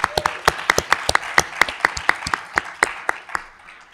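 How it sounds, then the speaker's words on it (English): A small audience at a legal practice talk gives a sparse round of applause. A few individual claps ring out in a loose, uneven rhythm and thin out toward the end. "Round of applause."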